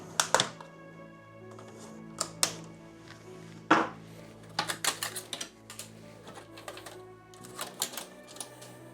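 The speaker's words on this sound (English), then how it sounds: "to cut the cable ties here." A cutter snips cable ties on a Bambu Lab P1S Combo 3D printer during unboxing, sharp close clicks in scattered bursts with some plastic handling between them.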